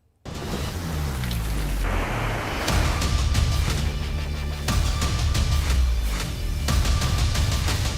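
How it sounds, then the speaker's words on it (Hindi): Steady heavy rain pours down in a dense, constant hiss that starts abruptly and continues at full strength, with occasional louder bursts and low rumbles beneath, no voices. "बारिश"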